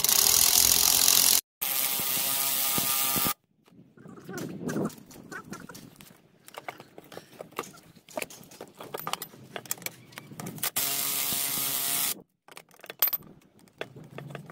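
A ratchet spring compressor is cranked against the front coil spring of a Peugeot 207, giving bursts of quick metallic ratchet clicks and small clanks, close and fairly quiet, between loud, even blocks of noise.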